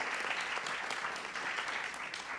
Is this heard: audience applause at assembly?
yes